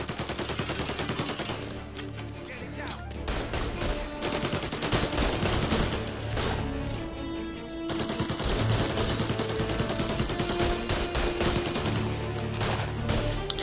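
Dense, sustained gunfire in the Mafia Definitive Edition video game, overlapping automatic bursts and shots rattling continuously and loudly throughout with barely any pause, heavy and close.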